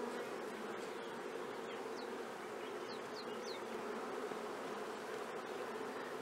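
Honeybees buzz around a hive frame during tropical beekeeping, a dense and steady close-up drone of many wings with no speech.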